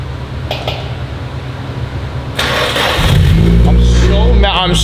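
A Nissan 240SX that sat for five years cranks and fires, its engine rumbling loud and close into a steady idle while people talk excitedly nearby.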